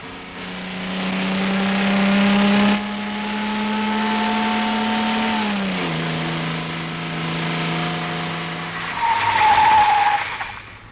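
A car engine revs and holds a steady tone, then drops in pitch as the vehicle pulls away, with a brief rising whine near the end.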